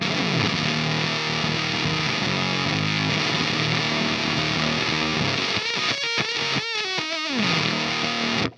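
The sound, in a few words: guitar fuzz pedal with octave up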